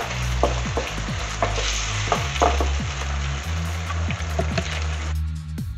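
Onion tomato paste frying on a high flame with lamb liver, a loud close hiss and bubbling under rhythmic spatula stirs and scrapes, the sizzle dropping off sharply near the end.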